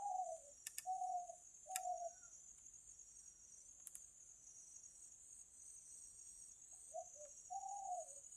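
Soft, low dove coos in late afternoon come in short groups with a long quiet gap between, over a constant high insect drone and a few sharp clicks.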